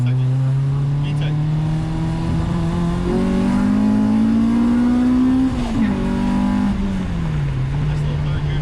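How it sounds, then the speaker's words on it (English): A tuned Honda Civic making about 220 wheel horsepower on E85 revs loudly up and down close by, its engine note climbing into a VTEC howl and dropping again, with some talk mixed in. "rev it just to get in a second"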